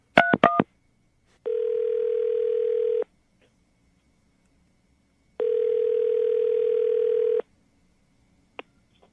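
A quick burst of keypad tones, then two long steady telephone tones separated by silence, followed by a faint click; no voices.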